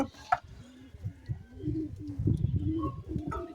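Domestic pigeons being paired and shown, giving low, soft cooing in repeated rumbling bursts nearby, with a few faint higher chirps over the top.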